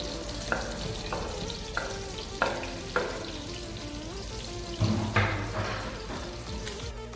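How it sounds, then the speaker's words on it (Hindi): Chopped onions frying in a pan for a potato and egg curry, a steady hiss of sizzling oil broken by several sharp spatula scrapes and knocks, close up with no talking. "प्याज को मैं कलर चेंज होने तक 3 से 4 मिनट पकाऊंगा"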